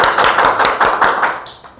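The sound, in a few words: audience applause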